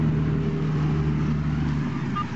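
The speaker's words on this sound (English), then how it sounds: "A few trucks going through." Trucks rumbling past on a highway, a steady low engine drone and road roar holding throughout at moderate distance, no voices over it.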